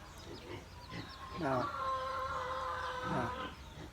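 Bantam chickens in a coop cluck and squawk close by, with one drawn-out crowing call in the middle and soft murmuring around them.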